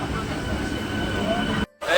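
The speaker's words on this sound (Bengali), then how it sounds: "এই পাতিয়াল স্টেশন থেকে আমাদের ট্রেন ছেড়ে দিল" The Jagannath Express pulls out of Patial station on its Shalimar to Puri run, giving a loud, steady rumble of wheels and carriages that cuts out briefly before resuming.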